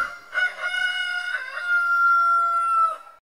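A single rooster crows close by and loud, a drawn-out cock-a-doodle-doo of about three seconds heard alone.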